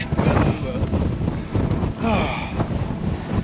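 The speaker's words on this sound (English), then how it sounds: "Seems to be windy everywhere." Wind buffets the microphone with steady low rumbling gusts on a wet Dartmoor hike, while people talk intermittently underneath.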